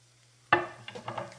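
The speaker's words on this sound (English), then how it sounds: "now we're just gonna saute for a few minutes until our apples start to soften" Apples dropped into a hot pan of melted butter and cinnamon, hitting with a sudden sizzling splash, followed by a few soft stirring scrapes and spatters that fade under a low hum.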